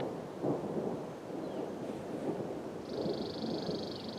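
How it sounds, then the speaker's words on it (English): Thunder from a lightning storm passing over Golden Gate Canyon State Park, a continuous low rumble rolling steadily for several seconds outdoors under wind and rain-like hiss, with no voices. "we get a lightning storm coming through"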